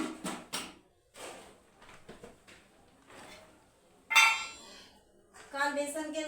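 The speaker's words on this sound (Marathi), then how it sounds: "आता एवढे भांडे घासून आणायचे आहेत मला." Pots and pans clink and clatter in a home kitchen during dishwashing, with scattered knocks and a sharp metallic clang near the end, followed by brighter ringing clatter and a faint voice in the background.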